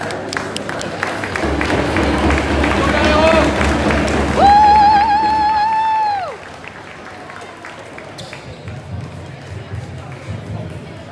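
Spectators at an under-13 youth tournament final applaud and cheer as a crowd, with a whistle sounding midway, then the clapping drops to a thinner patter and background chatter.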